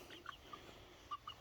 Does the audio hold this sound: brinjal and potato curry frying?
no